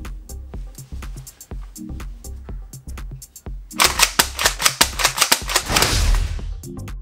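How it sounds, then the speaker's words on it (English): A Fabarm STF-12 airsoft pump-action shotgun is worked repeatedly, giving a close series of sharp mechanical clacks and ratchety snaps in quick rhythm, which grow louder and denser midway with a rough rushing burst, and no talk. "It's harder to work the pump action,"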